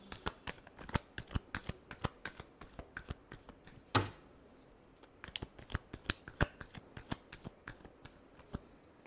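Tarot cards are shuffled in a quick, steady run of crisp riffling flicks, close and fairly quiet, with one sharper snap partway through and no voices.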